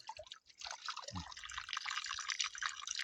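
Water trickling and dripping into a stone basin at an ancient historic spring, a continuous close, bright splashing patter that runs steadily throughout.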